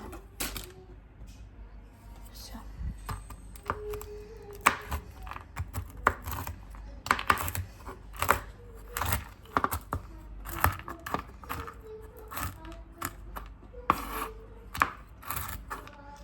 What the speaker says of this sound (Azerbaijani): Doğrayacağım mən.